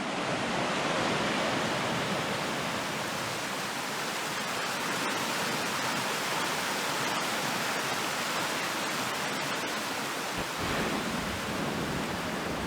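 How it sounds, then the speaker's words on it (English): A river flowing past a rough, rustic bridge in North Carolina, a loud, steady roar of rushing water that fills the whole stretch without pause, with no voices. "And look at the river."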